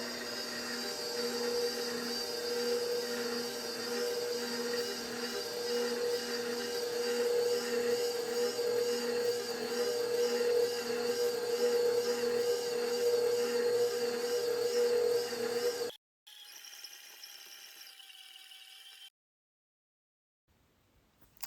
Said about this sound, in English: now I just take this with my dough hook over to the machine, and I am going to mix this for 10 minutes